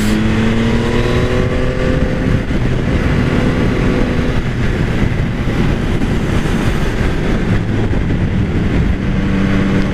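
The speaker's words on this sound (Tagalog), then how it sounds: "Traffic talaga kahit dito" Continuous loud road traffic and engine drone heard from a Yamaha XSR900 motorcycle riding in Philippine traffic, with steady wind rush and hum and no pauses over ten seconds.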